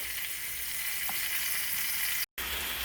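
Chicken pieces fry in a pan with a steady, bright sizzle and crackle, close and continuous, with no talking.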